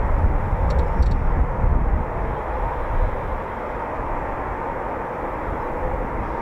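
Eurofighter Typhoon jets of 11 Fighter Squadron taxiing at RAF Coningsby, a steady broad engine roar and whine holding close and loud throughout, with no talk.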